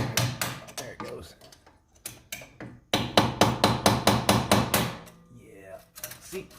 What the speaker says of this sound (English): Usually you can just take a little screwdriver and hammer